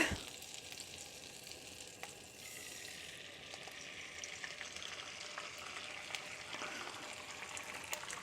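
An egg sizzles steadily in a hot pan on medium heat, a close, even frying hiss with small pops, quiet and unaccompanied by talk.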